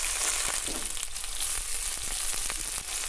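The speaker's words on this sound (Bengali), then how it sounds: "তেল খুব ভালো করে গরম করে নিয়েছি, কেটে রাখা পেঁয়াজ দিয়ে দিচ্ছি" Chopped onions dropped into well-heated mustard oil in a kadai, giving a steady, close, hissing sizzle with scattered crackles throughout and no voices.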